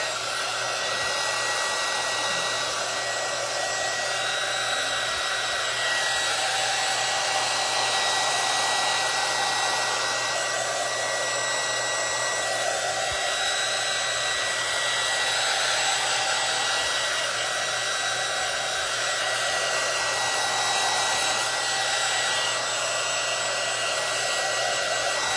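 A hair dryer blows a light coat of acrylic paint dry, roaring steadily and loudly close up without a break from start to finish.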